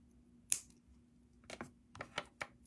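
Wire cutters trim thin jewelry wire while a wire-wrapped chain necklace is made: one crisp close snip, then several smaller quiet clicks and taps in a quiet room.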